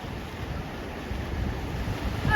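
Sea waves wash in a low, steady roar with wind buffeting the microphone, a constant broadband rumble heard from out on the water, with no voices.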